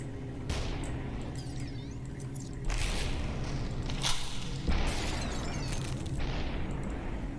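Scattered gunshots from the Superhot video game, a few sharp cracks and bursts standing out over a steady low game rumble, fairly faint and with no talking.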